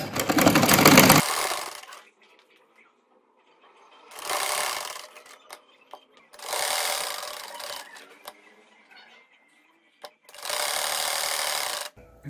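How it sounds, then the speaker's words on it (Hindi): Sewing machine stitching the inside of a garment neckline, running in four loud bursts of steady whirring of one to two seconds each, separated by quiet pauses with faint fabric handling. "अब हम गले को अंदर की तरफ जो है वो सिलाई लगा रहे हैं।"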